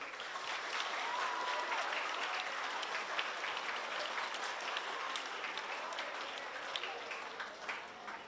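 A gathered crowd at a school welcome-back event gives steady applause that stays fairly faint, with individual sharp claps popping through the sustained patter.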